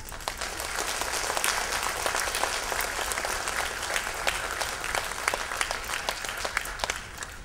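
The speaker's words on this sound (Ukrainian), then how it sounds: "не жалкуйте долонь для аплодисментів, бо перед вами виступають діти." Hall audience applauding a children's accordion ensemble at its anniversary concert: a sustained, full wash of many hands clapping, steady and loud throughout, with crisp individual claps standing out toward the end.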